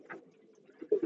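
Racing pigeons cooing inside a loft, a few soft, low coos rising toward the end, fairly faint with no talk.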